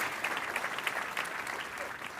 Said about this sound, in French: Ben, moi, j'applaudirais à ça.